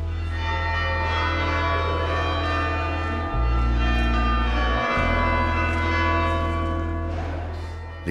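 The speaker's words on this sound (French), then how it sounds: "Les cloches des Invalides sonnent déjà l'heure du repli." Church bells of Les Invalides in Paris ring the hour, a rich sustained tolling with dense, steady overtones that holds loud and close for about eight seconds, with no voices over it.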